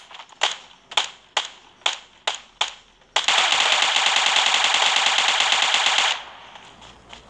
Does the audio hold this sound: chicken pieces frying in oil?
no